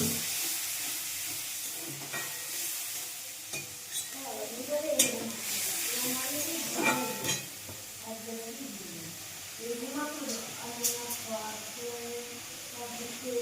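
Spice paste of ground tomato, mustard and cumin sizzles steadily in a hot pan, a continuous frying hiss with some clatter and faint background voices.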